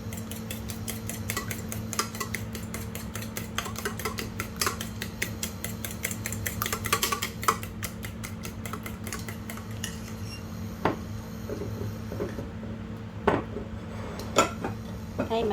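Eggs being scrambled for a shrimp and onion sprout omelette, seasoned with pepper: a utensil clicks quickly and steadily against the bowl, close and clear, over a low kitchen hum.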